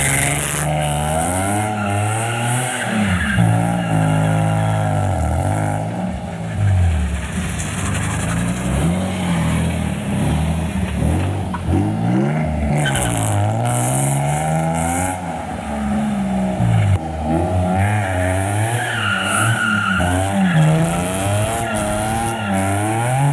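An HR-swapped Nissan G35 drifts with its engine revving hard and rising and falling in repeated sweeps, while the tires squeal and skid loudly and continuously, close by, with no talk.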